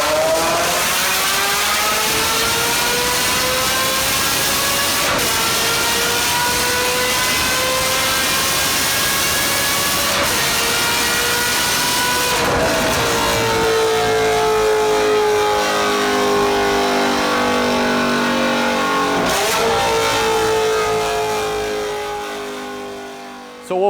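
A Ferrari flat-plane V8 with Formula One technology, rated at 480 horsepower and revving to around 8,000 rpm, howls loud and close, its sustained high revs sweeping up and dipping in repeated rising pulls.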